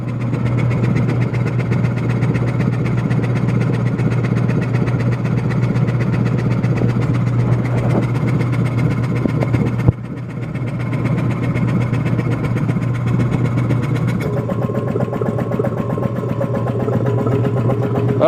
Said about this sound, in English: you'll be able to hear when it starts pumping air